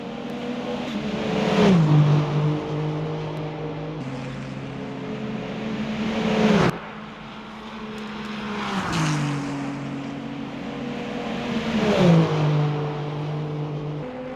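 Race cars from the Le Mans Ultimate game, LMP2 and GT3 entries in a 24-hour Le Mans race, roar past in turn, each engine note rising and then dropping in pitch as it sweeps by, loud and continuous with no voices.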